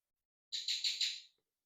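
Kiwi, a pet bird, gives a short burst of four quick high chirping calls close by, then falls silent.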